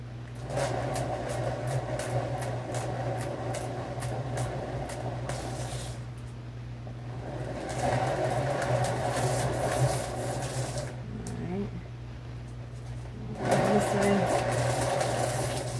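A paint spinner whirs steadily while spinning a fluid art piece, its motor hum running throughout with short pauses and restarts, and a person talks over it.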